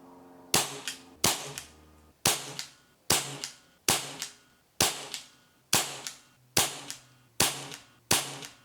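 Ten air rifle shots at a target from a Weihrauch HW77 or Air Arms TX200, each a crisp close crack with a short decaying tail, evenly paced about every 0.8 seconds with no talking.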